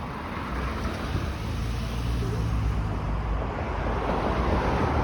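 A loud car passing along Albion Road near Thistletown, a steady broad roar on the roadway heard from the sidewalk, mixed with wind buffeting the microphone and no clear speech.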